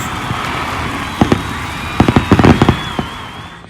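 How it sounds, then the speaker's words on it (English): Fireworks boom in a celebration after a Colorado Buffaloes college football touchdown, a scattered series of sharp bangs and crackles building into a dense burst over steady crowd noise, then trailing off. "Fireworks, please."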